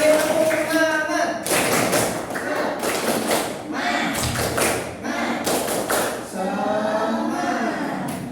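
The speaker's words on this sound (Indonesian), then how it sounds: "tepuk tangan dulu biar kita semakin semangat" A class of students claps in rhythmic bursts of loud, close hand claps, alternating with group voices chanting between the rounds in a lively classroom.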